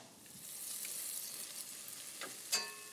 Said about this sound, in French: une fois que la carcasse et carottes, lard, échalotes sont bien revenues